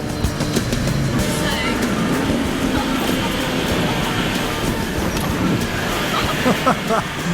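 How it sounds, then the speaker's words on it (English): A truck rumbles and rattles over a rough off-road track in two-wheel drive, with constant low engine noise, jolts and clanks throughout, and voices talking underneath. "being chucked around in the truck"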